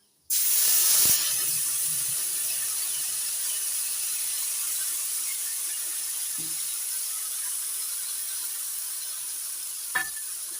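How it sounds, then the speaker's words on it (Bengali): Ground spice paste dropped into hot oil over cumin seasoning for a vegetarian pointed gourd korma erupts in a loud, sudden sizzle that settles into a steady, bright hiss, with a faint clink of a utensil near the end. "ফোড়ন হয়ে গেছে, এবার দিয়ে দিচ্ছি বেটে নেওয়া মশলা"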